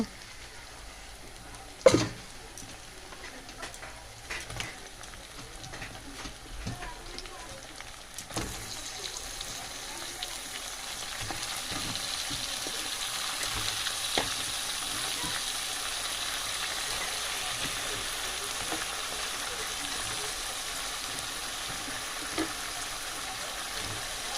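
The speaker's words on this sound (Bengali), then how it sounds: "দিয়ে ভালো করে কষিয়ে নেবো, মাংসটা কষিয়ে নেবো ভালো করে" Meat added to a pan of fried ginger and garlic sizzles steadily, a faint hiss that grows fuller partway through, with occasional stirring clatters and a few sharp clicks.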